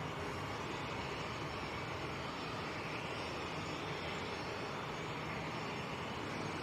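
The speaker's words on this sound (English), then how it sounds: "Ryanair's keeping the reversers on." A Ryanair jet landing at Manchester Airport on a wet runway roars with its thrust reversers held on, a broad, steady, loud rumble and hiss filling the whole stretch without a break.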